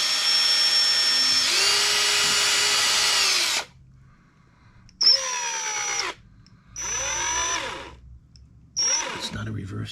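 Power drill boring a hole in wood during an electric guitar build, three bursts of steady whining spin separated by pauses, close and loud, with a short stretch of talk between them.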